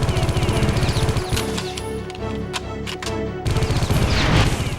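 Rapid bursts of gunfire strafe an enemy in the video game Geist, steady loud automatic shots in dense rhythmic volleys, broken by a short stretch of heavier crashing impacts before the fire resumes.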